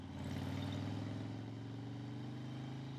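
Harley-Davidson motorcycle engine while riding on a cold road, a steady close low rumble with a throbbing, pulsing drone and no voices.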